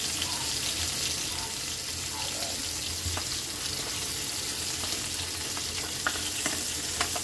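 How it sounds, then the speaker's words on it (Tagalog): Garlic sizzling in a hot pan, a steady frying hiss with a few scattered clinks and stirring ticks, running alone throughout at a constant moderate level. "Lutuin muna natin yung bawang Kylie."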